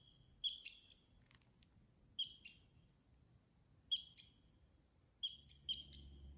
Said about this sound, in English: That sound we're hearing is not a bird. It is actually squirrels over here under these juniper trees.